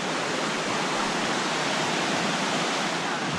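Steady broadband rush of flowing water at a swimming hole on West Clear Creek, a continuous even hiss filling the scene without pause, moderately close and alone.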